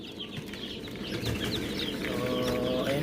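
Newly hatched chicks peep in a brooder, a busy chorus of high, short chirps overlapping continuously at close range over a low background murmur.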